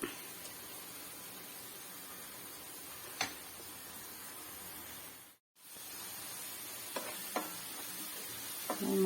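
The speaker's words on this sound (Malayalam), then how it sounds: "കുറേശ്ശെ ഇട്ട് വറുത്ത് പോരാം." Bitter gourd pieces dropped into hot oil, a steady soft sizzle with a few small pops and a short silent gap midway.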